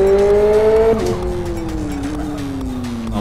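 A Ferrari in the racing game Live for Speed, its engine holding a loud steady whine that drops in pitch after a shift, while the tires squeal underneath.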